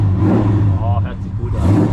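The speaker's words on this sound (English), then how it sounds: "Gib mal einmal Gas bitte." Big-block hot rod engine at a Sunday car show revs with a steady, loud low rumble, close by, while people talk over it.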